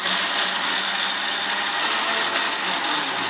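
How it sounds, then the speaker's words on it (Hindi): A blender grinds pomegranate seeds into juice, giving a loud, steady whirring roar that runs unbroken from start to finish with no voices. "अब हम इन दानों को, यानी कि जो अनार के हमने दाने निकाले हैं, इनको अच्छे से ग्राइंड कर लेंगे और इनका जूस निकाल लेंगे"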